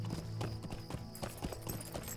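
Horse hooves clip-clopping in the video game LOTRO, a quick steady rhythm of hoofbeats over a layer of game music, fairly quiet and with no talk.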